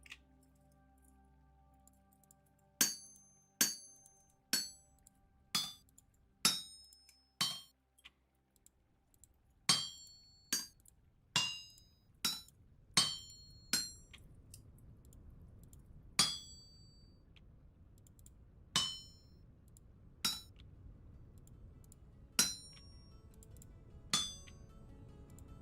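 Hot metal struck with a hammer while smithing a hammer head in the game Vintage Story: about twenty sharp ringing metallic blows at uneven pace, clear and close, with no one speaking.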